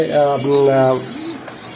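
Pigeons at a farm coo eagerly before feeding, a close, loud, throaty call rolling over under two seconds, with a short chirp at the end.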